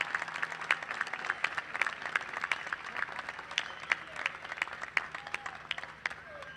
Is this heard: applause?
yes